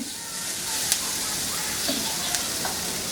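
Capsicum frying in a pan gives a soft continuous sizzle with a few faint stirring clicks, low and close, with no talk over it.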